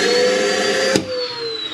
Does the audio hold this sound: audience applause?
no